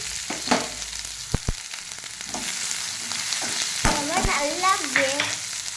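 Sliced onions frying with green chillies and fennel seeds in a pan for potato masala: a loud, constant sizzle with sharp spoon clatters as they are stirred, and a faint voice briefly heard in the background.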